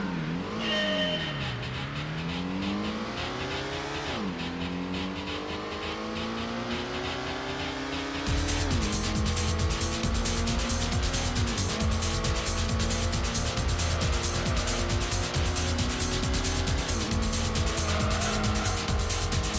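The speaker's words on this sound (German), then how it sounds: "Beschleunigen Sie vom Start und fahren Sie durch die S-Kurve bis ins Ziel" A race car in Gran Turismo accelerates hard from the start through an S-curve, its engine revving up through repeated gear changes, loud and continuous with some tire squeal as it holds the line through the bends.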